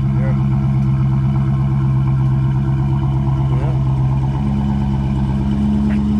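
Dodge Challenger widebody with a mid muffler delete and quad tips, its exhaust giving a deep steady rumble throughout, loud and close, holding a fairly even level with only slight shifts in tone.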